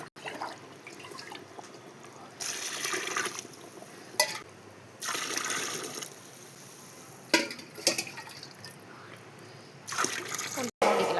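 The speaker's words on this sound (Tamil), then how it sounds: "நான் 6 படி தண்ணி சேர்த்துக்கிறேன்." Water is poured into a cooking pot for a large 4 kg chicken biryani, coming in several separate gushing bursts with short quiet gaps between them, close and moderately loud.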